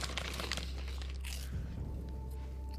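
Crisps being crunched while eating, a dense crackly burst of crinkling bites up close over about a second and a half, then a softer chewing tail with low background hum.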